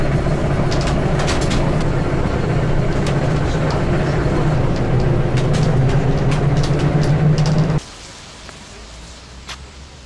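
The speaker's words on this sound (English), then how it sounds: "I don't think I've been on a bus this old. Oh my god, it's so loud." Old bus rattling along in Pridnestrovie, a loud continuous engine drone and rumble with clattering knocks, then the noise abruptly drops to a quieter hum near the end.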